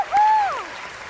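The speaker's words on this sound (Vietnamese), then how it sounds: "xin một tràng pháo tay nữa cho ba thí sinh của chúng ta." An audience applauds three contestants on the 2024 Vietnamese bolero singing show Solo Cùng Bolero. The clapping is a soft, diffuse wash under a sustained tone.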